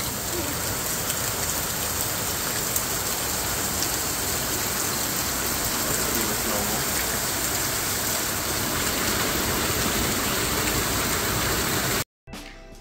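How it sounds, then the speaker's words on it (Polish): Steady light rain falling outdoors during an ultra-distance road cycling championship, a dense even hiss lasting throughout with no talk, cutting off abruptly near the end. "Z racji delikatnego deszczu"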